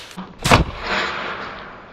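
A double-barrel shotgun fires a single close, loud shot: a sharp broadband blast with a short fading tail.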